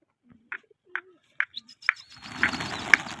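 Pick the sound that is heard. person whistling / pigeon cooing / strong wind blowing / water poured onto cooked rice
pigeon cooing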